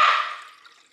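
Water poured from a container in a home kitchen, a short splashing rush that starts loud and close, then thins and fades within a second.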